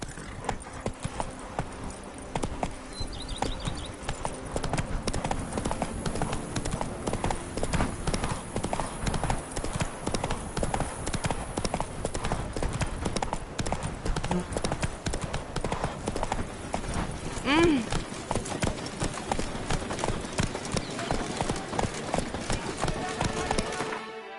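Roach the horse galloping in the video game The Witcher Wild Hunt, a fast, steady clip-clop of hooves that runs throughout, close and even, with a brief whinny partway through and no speech.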